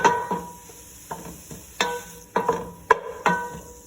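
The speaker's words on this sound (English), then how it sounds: "Continue sauteing." Vegetables for osso buco sauté in a pan over medium-low heat, with a soft sizzle broken by repeated sharp scrapes and clinks of a utensil stirring at irregular intervals, close by and quiet.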